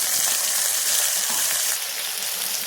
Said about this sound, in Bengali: এই মাছের তেল দিয়ে আলু পেঁয়াজ ভাজা পুরো রেডি